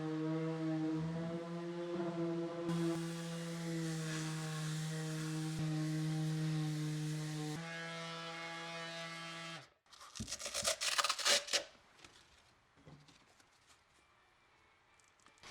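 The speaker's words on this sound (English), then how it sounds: "These we're gonna paint, so we're still sanding them" A power sander buzzes with a steady droning hum against wooden stair risers inside a plastic dust enclosure, followed by a burst of harsher rattling contact noise before the sound fades out.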